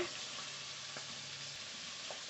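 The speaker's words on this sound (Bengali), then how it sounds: "মাছ ভাজা হতে থাকুক" Soft, steady sizzling of fish frying in oil, a quiet continuous crackle with a couple of faint clicks.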